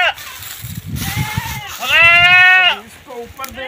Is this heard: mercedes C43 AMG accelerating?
no